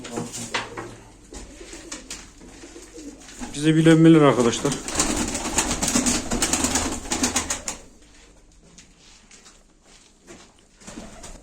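Pigeons coo repeatedly with low throaty calls, loudest in the middle, while someone talks over them at a live bird auction.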